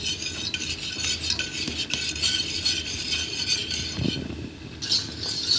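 A spoon scrapes and stirs a sauce in a metal cooking pot, with steady close-up rasping and clinking strokes and a faint sizzle under them, no talking.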